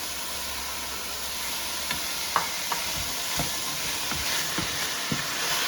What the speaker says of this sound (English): So this has been slowly sauteing for about two minutes. We are going to throw in the celery.